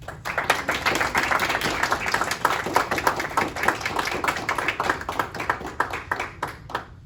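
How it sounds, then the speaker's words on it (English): An audience claps at an award ceremony, crisp individual claps packed into lively applause that holds steady, then thins and fades in the last second. "A round of applause."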